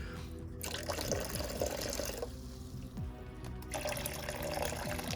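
Tank water is poured slowly into bags holding new fish for acclimation, giving a steady trickle and splash of liquid with scattered drips, close and continuous throughout.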